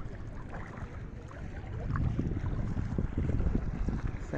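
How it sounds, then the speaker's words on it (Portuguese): A small, clean-running boat motor hums steadily at a beach in São Miguel dos Milagres, Alagoas, a low rumbling drone mixed with wind and water noise that grows louder midway. "Olha só o motorzinho, que não polui, não é aquele motor que solta o óleo na água."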